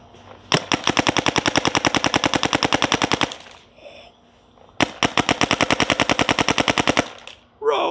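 A Shocker XLS paintball marker fires two long, rapid strings of sharp, evenly spaced pops, each lasting about three seconds with a brief pause between, loud and close.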